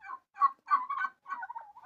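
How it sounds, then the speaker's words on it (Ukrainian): Farmyard turkeys gobble in several quick, warbling bursts with short gaps between them, close by and moderately loud, with no voices over them. "А це індики."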